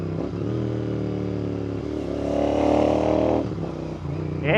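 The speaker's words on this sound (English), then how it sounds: "we installed exhaust on this bike." A Royal Enfield GT650 twin-cylinder motorcycle with a loud aftermarket exhaust burbles at idle, then blips the throttle in a couple of revs, close by.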